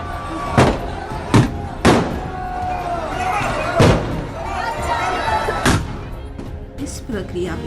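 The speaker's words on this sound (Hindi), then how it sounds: "गांव के युवा गायों के आसपास पटाखे फोड़ने लगते हैं" Firecrackers burst around cows in an Indian village at Diwali, five or six sharp close bangs spaced a second or two apart over a noisy crowd background with people talking.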